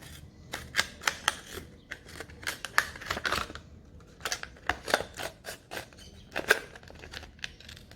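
Scissors snip through a smooth plastic bottle to cut it in half, giving a series of sharp, close crunching cuts in irregular bursts separated by short pauses.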